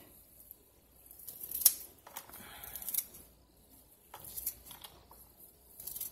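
Bean sprout roots being trimmed in a home kitchen: quiet, close snipping and crisp cutting sounds in a few short bursts, with soft rustling between them.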